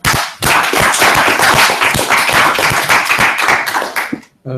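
A small seminar audience at a talk on random projections claps for a speaker, crisp individual handclaps close by in a brisk, uneven patter that cuts off abruptly near the end.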